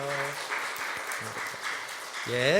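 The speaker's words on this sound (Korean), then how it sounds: "박수만 해주세요." A church congregation applauds steadily in a large sanctuary during a Sunday service while a voice speaks over the top, clapping continuing throughout.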